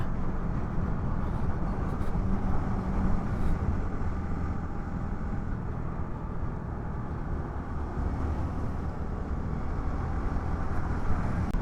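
Heavy truck traffic on a monsoon-season road out of Mumbai, heard as a steady, loud, broadband road rumble that carries on without a break the whole time, with no talk over it.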